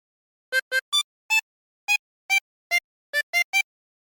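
A harmonica plays a short melodic phrase, about ten separate notes, each brief and clear, with small gaps between them and no other sounds.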